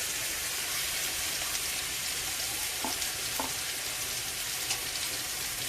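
A spice paste of green chili and salt, with turmeric powder, sizzles steadily in a pan as it fries, giving a constant loud crackle with a couple of faint clinks of stirring.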